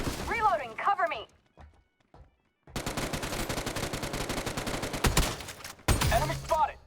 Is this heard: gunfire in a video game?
yes